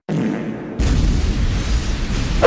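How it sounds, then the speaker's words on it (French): Explosion in the anime Sabikui Bisco: a sudden loud, sustained roaring blast erupts after a brief rumbling lead-in and fills the clip with dense, close noise before ending in a sharp final crack. "À cause de cette explosion inopinée"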